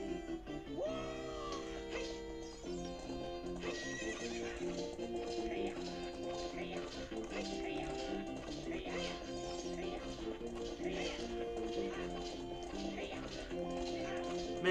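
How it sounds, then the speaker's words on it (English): Horse neighing with galloping hooves in the video game Ocarina of Time 3D, a whinny rising near the start, set against a continuous game music score throughout. "Man, that poor horse is getting so abused."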